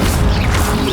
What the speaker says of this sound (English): He just destroyed his own statue.